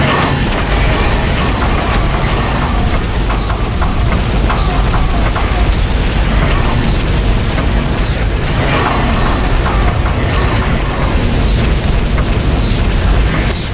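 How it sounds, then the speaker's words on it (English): Scorpion missile launcher fire in the remastered Turok 2 online multiplayer, a loud, unbroken barrage of booming blasts and rumbling explosions that fills the whole stretch without a break. "Scorpion missile launcher."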